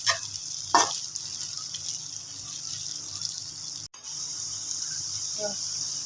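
Okra (bhindi) sliced and frying in a pan for bhindi masala, a steady hissing sizzle throughout with occasional stirring clatters and soft speech over it.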